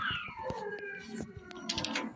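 A high, wavering monster cry made from a slowed-down cheetah call slides downward, faint and eerie, broken by scattered clicks and thumps.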